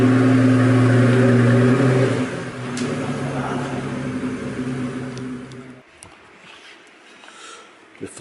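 A Pagani Zonda 760RS accelerates, its engine a loud, rich drone at first, then easing and fading away over several seconds as the car pulls off, leaving quiet background with faint noises.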